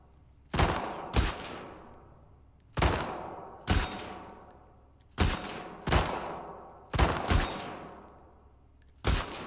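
Gunfire in a shooting competition in the video game The Last of Us Part 2: loud, close shots in quick pairs, each followed by a short decaying tail, repeating steadily with no talking.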